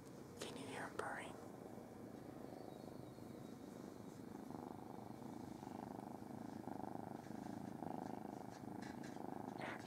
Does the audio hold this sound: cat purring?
yes